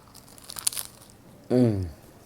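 A bite into a crisp, freshly fried hot singara (samosa) brings a short crunch, close and clear, followed by a brief voice.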